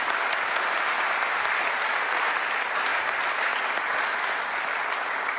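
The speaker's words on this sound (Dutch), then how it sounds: "Dames en heren, een applaus voor Kees Voegen." An audience at a privacy lecture gives a speaker sustained, even applause, a thick wash of many hands clapping steadily from start to finish.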